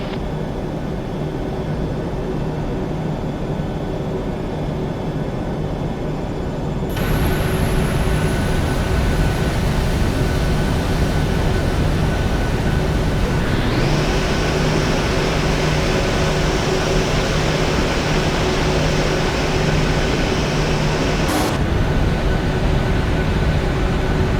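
A Ryanair jet airliner taking off, heard as a loud, steady roar of jet engines that swells after several seconds and holds continuously, with a high whine rising through it and no voices.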